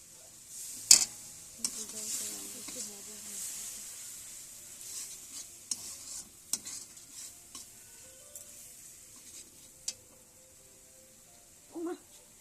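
Potatoes sizzle and fry in a pan while being stirred, with soft crackling punctuated by sharp metallic clinks and scrapes of utensils against the pan, fairly faint and close.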